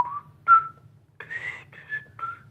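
Someone whistles The Andy Griffith Show theme song in a few short, slightly wavering phrases, close and alone, with brief pauses between notes.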